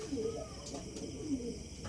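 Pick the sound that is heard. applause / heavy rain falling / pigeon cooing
pigeon cooing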